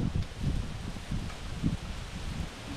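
Gusty wind over a large, deep river buffets the microphone in low rumbling bursts, with a faint rustle in the background and no voices.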